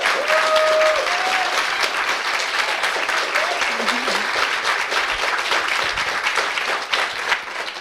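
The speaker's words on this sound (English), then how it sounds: "I want all of us to just give Julissa another round of applause" Sustained applause fills a bookstore author event, a dense even clapping from the gathered crowd that holds steady throughout, with some voices underneath.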